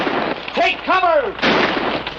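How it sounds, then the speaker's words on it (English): Gunfire rings out in a western movie shootout, with sharp reports and a rising voiced shout between them, all loud and close and mixed with film sound. "Who's shooting at him?"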